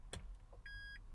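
A restyled Smart Fortwo EQ electric car gives a single short, clean electronic beep as it starts, quiet and close, over faint background hum.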